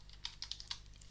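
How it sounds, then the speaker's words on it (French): Computer keyboard keys clack in a quick, uneven run of about half a dozen crisp strokes, close but quiet, with a low steady hum underneath. "désolé pour le bruit de clavier, c'est un peu fort"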